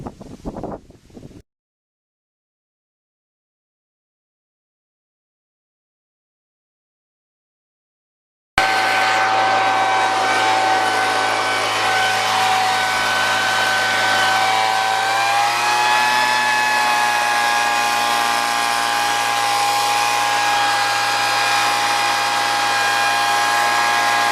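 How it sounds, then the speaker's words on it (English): A loud, steady blower roars nonstop while drying spots on an F9 BARC surface, holding an even whine that dips slightly in pitch midway, after a brief scrap of noise and several seconds of silence. "So I'm going to shut off the video, put a blower on it, and dry it up."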